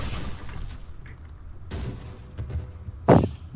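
A few gunshots in the Cry of Fear horror video game, spaced apart and fairly faint, with one sharper, louder shot near the end over low background rumble.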